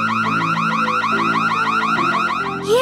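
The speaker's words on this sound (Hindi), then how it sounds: "ये अलार्म क्यों बज रहा है?" A store anti-theft alarm rings loud and steady at checkout, a continuous warbling electronic wail with repeating pulses that fills the whole stretch.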